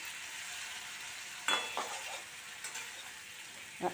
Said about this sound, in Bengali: তখন আমি তার মধ্যে আদা রসুন পেস্টটা দিয়ে দিলাম